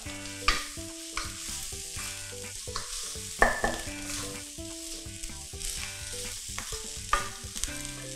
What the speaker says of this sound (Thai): แล้วเราก็ผัดเลยคลุกเคล้าให้เข้ากันนะครับ